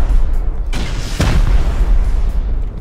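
Explosive ammo blasts in the survival game Rust, loud close booming bursts, one sharp hit followed by another heavy thump, rumbling low end between shots.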